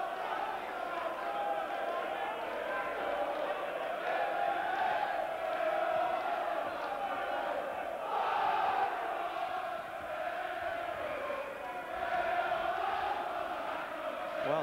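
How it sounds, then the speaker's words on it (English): A large boxing crowd sings and chants loudly together, a dense, steady roar of many voices filling the space without pause. "this is some crowd here singing already, tops of their voices."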